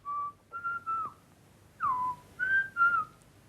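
A man whistles a jazz tune, a clear melodic whistle in short phrases separated by pauses, close and solo with no talk.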